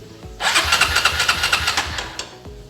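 Honda Mega Pro motorcycle starter motor, jumpered straight from the battery with the ignition off, whirs into a steady fast-pulsing crank for about two seconds before cutting off. It is close and fairly loud, with no talking.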